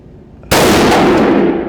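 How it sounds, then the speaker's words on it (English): A PTR-91 rifle, a clone of the HK G3, fires a single 7.62x51 round outdoors: one sharp, loud crack that breaks a quiet moment, followed by a long, bright echo that tails away. "right now I guess let's shut the hell up and shoot the thing, Mike."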